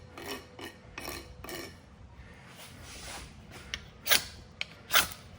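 A knife spine scrapes down a ferro rod, throwing sparks: a series of short, harsh rasping strokes, several soft ones early, then two sharper, louder scrapes near the end, close and alone.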